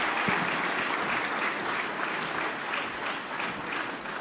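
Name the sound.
audience applause at turkey calling championship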